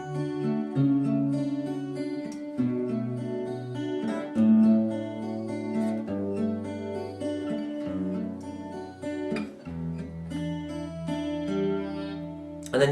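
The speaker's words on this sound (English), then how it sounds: "Now, all the time you're picking these bottom 3 strings with different bass note." Fingerstyle acoustic guitar plays a song, picking shifting bass notes on the bottom three strings under melody notes, a steady close and clear instrumental passage with no voice.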